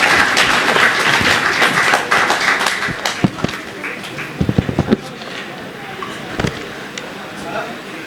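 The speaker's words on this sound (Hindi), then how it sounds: "तालियां फिर से बजाएं" Audience clapping at a Hindi poetry recital by Sakshi Tiwari at Aaneh 2025: a dense burst of applause for about three seconds, then thinning into scattered, separate claps.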